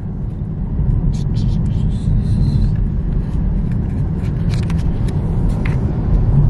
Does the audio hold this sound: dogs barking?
no